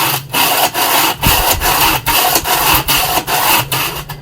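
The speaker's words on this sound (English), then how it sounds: "The sound you just heard was me cleaning out the ashtray" Ashes being cleaned out of the ashtray of a Weber Summit charcoal grill, a loud repeated scraping and rasping in steady back-and-forth strokes with brief gaps between them, close up and without talk.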